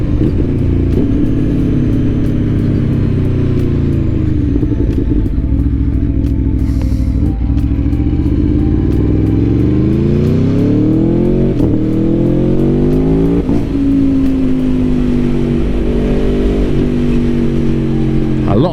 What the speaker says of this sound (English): A lot of engine braking.